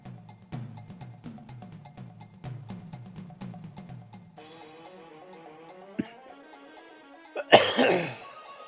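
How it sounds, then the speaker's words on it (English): A person coughs and clears their throat over steady, looping video game music from Final Fantasy VIII, ending in one loud, close cough burst. "Apologies for all the throat clearing and coughing."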